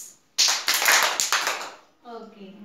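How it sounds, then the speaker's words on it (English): A group of students claps their hands in a classroom listen-and-act activity, a burst of sharp, slightly ragged claps followed by a brief spoken voice. "Now, two claps."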